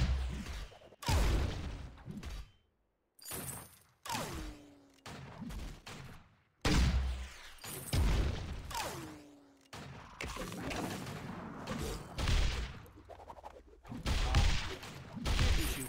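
Rapid gunfire from Ringo in the mobile game Vainglory 5v5, dense bursts of loud shots and impacts in clustered volleys separated by brief gaps, with some thuds mixed in.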